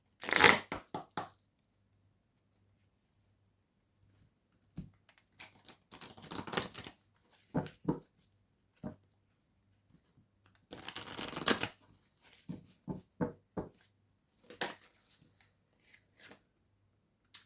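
Oracle cards being shuffled by hand, soft, close riffling bursts in irregular clusters separated by quiet gaps.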